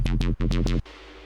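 Experimental bass patch built in Serum with distortion, compression, multiband and modulated effects: four punchy, harmonically rich synth hits in quick succession, each with a sweeping upper edge, then a faint reverb tail.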